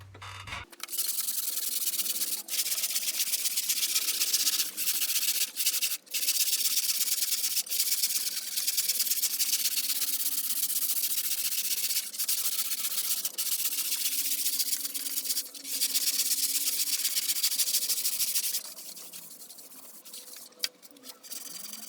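Sherwin-Williams Corotech epoxy primer is sanded on a boat rudder, a loud, continuous rasping rub that runs almost without a break, with a few brief pauses and a softer stretch near the end.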